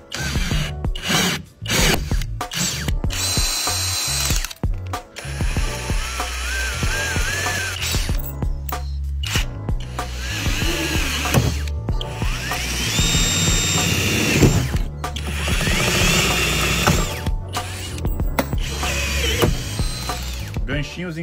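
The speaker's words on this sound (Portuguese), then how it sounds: "Bom, então vamos fazer o primeiro furo aqui." A power drill bores a hole in a car to mount a shelf, its whine running in steady bursts broken by short pauses, loud and close.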